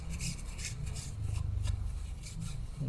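A rag rubs and wipes a scooter CVT part from a GY6 engine during a rebuild, giving soft, repeated close scrubbing strokes of cloth on metal in a quiet workshop.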